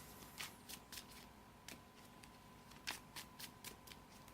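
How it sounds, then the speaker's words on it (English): A Pokémon trading card deck is shuffled in short, crisp riffling bursts, about a dozen quick flicks heard close and fairly quiet with no talking. "So we gotta shuffle our deck again."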